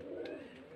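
Pigeons coo softly at a seller's loft in Beldanga, a low, brief, murmuring call heard close by with no talk.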